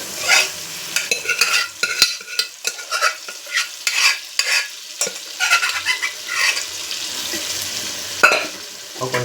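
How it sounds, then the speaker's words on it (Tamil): Food frying in a pan is stirred with quick, repeated scraping strokes over a steady sizzle, close and fairly loud, in an uneven rhythm without talking. "இப்போ கொஞ்சம் நேரம் கிண்டி விடுவோம்."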